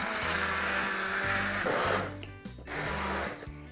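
A blender whirs steadily in a pot, pureeing cauliflower soup, with a low motor drone, briefly dipping and restarting partway through, loud and close with no talking.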